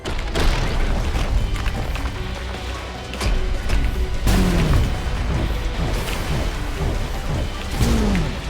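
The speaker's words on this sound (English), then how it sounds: "Why am I using explosions against soldiers?" Video game explosions boom and crash in dense succession, with bursts and pops layered over continuous loud battle noise and a few sweeping tones, no clear speech.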